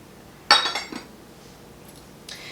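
Three whole eggs go into a mixing bowl for a chocolate coconut cake: a sharp clink of shell against glass, a brief wet follow-through, then a fainter tap a moment later in a quiet kitchen.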